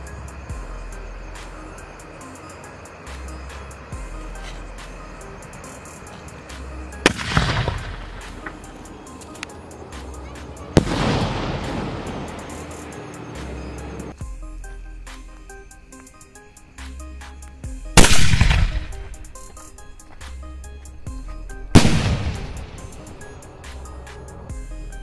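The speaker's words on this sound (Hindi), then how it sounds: "तो भाई सबसे पहले टेस्ट करते हैं ग्रीन वाले स्काई शॉट को, देखते हैं ये कैसा जलता है।" Four green Diwali sky shot fireworks go off in turn, each a loud sharp burst with a fading crackling tail, separated by quieter stretches of outdoor background.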